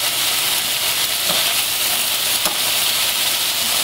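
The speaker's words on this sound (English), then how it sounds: "And you just cook it until it's a nice even brown." Marinated food fries with cut shallots in a pan, caramelizing to an even brown. A loud, constant hissing sizzle runs throughout, with a couple of faint utensil clicks and no voices.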